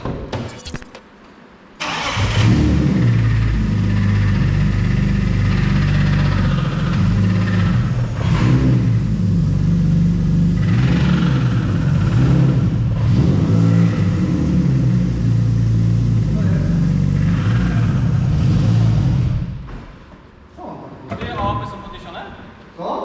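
A BMW with an M52 straight-six engine cranks, catches and runs, then revs up and down in repeated swells for about seventeen seconds before shutting off; people talk nearby before and after.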